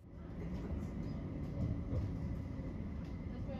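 Newcastle light rail tram running without overhead wires, a steady low rumble and hum of the tram in motion, continuous and fairly close, with no talk over it.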